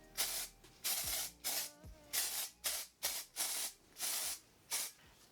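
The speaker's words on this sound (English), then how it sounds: "I just take a dry texturizing spray. This one is from VO5, and I just spray it in" VO5 dry texturizing spray misted onto hair, a quiet, close series of about ten short hissing bursts in an even rhythm, with no talking.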